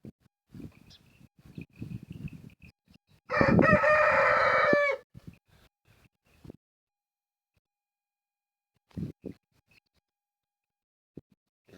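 Rooster crowing on a farm in the morning, one loud, close crow lasting about two seconds, amid scattered hen clucks and chicken noises before and after, with quiet gaps between.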